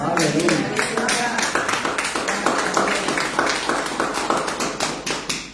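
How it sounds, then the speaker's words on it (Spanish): Congregation in a church applauds, loud rapid clapping from many hands, continuous and close throughout. "Denle un aplauso"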